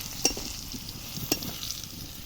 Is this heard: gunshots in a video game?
no